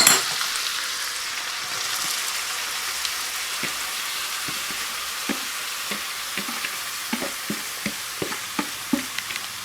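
Cauliflower sizzling and frying in a pan for a gobi paratha filling, a steady bright hiss with occasional soft stirring clicks and taps building toward the end, no voices.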